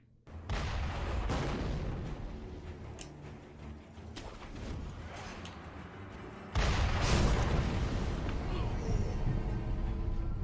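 Mortar fire in a video game: repeated booming blasts and heavy rumbling thuds, loud and close, with a bigger burst near the end, alongside a speaking voice.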